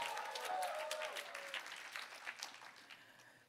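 A church congregation claps and cheers, broad applause that starts full and gradually thins out, with a few voices calling out over the crowd.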